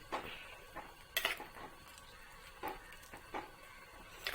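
Green chillies and curry leaves stirred in a pan for a jackfruit masala curry, with a spoon scraping and clanking against the metal in irregular strokes over a soft sizzle, close by and with no talking.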